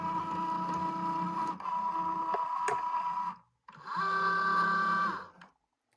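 A Cricut Joy cutting machine drawing in a card mat, giving a steady motor whir with brief pauses and a short stop before resuming, close and fairly loud.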